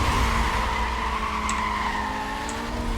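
Car racing in Need for Speed Most Wanted, a continuous loud engine drone with rising pitch as the car accelerates, tire noise and small chimes, no talk.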